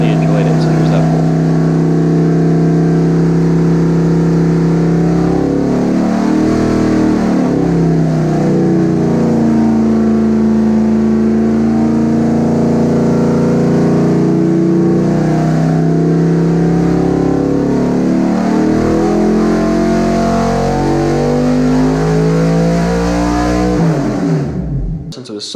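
A Chevy 327 V8 on a dyno, a loud sustained engine roar that climbs steadily in pitch through the pull before cutting off abruptly at the end.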